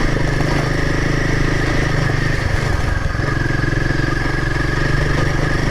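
Royal Enfield Himalayan adventure motorcycle engine thrumming steadily and loud at close range while riding an easy, slightly wet off-road route, with constant rumble and light mechanical clatter throughout.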